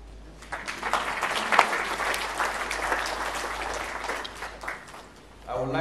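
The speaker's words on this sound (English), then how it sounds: "I think we should clap for that." Applause from a conference audience at a ministerial council session on the African rice sector, a dense crowd clapping that rises and holds steady, with a low constant hum underneath and a fresh burst at the end.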